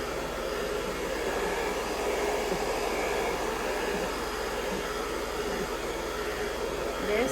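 Hair dryer blowing steadily on medium heat during a curly hair styling session, a constant loud whooshing airflow that holds even throughout with slight swells as the dryer moves.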